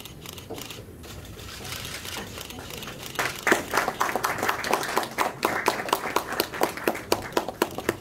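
An audience at a car industry awards ceremony in a hotel ballroom claps, starting faint and building into steady, fairly distant applause with a rhythmic, unison beat toward the end.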